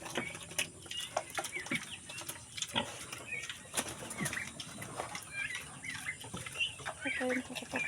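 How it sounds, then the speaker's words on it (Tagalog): A sow on a farm, flat-bellied after a day without food, gives off grunts and snorts amid farmyard bustle, with fluttering and rustling close by and no talk. "Yan po yung ating baboy."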